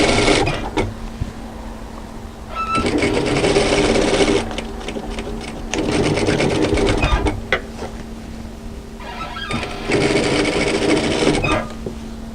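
A sewing machine stitches a camisole seam in three loud, steady bursts separated by short pauses, close up and with no talking.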